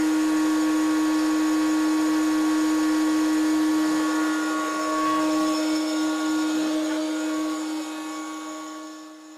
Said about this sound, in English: Turn the dust extraction on.